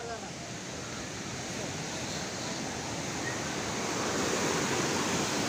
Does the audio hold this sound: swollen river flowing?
yes